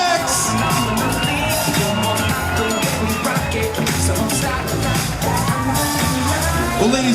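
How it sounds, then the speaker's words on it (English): Wedding reception guests cheer, whoop and clap as the maid of honor and best man are introduced, a loud, continuous crowd roar with music and shouting throughout. "A big round of applause for Kristen Holohan and"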